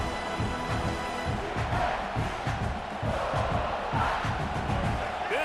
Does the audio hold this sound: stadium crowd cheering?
yes